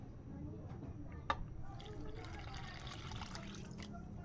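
Water is poured into full cream milk made from powdered milk for homemade yogurt, giving a faint, steady trickle with one brief clink near the start and no talking.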